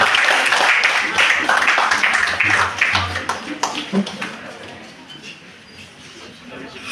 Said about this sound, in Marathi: जोरात टाळ्या होऊन जाऊया